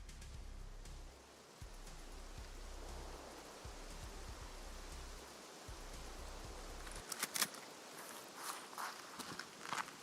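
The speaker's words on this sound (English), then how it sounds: "Okay, it's raining." Steady hissing rainfall in the shooter game Escape From Tarkov, a broad even wash with soft footsteps crunching through it and a few sharp clicks near the end.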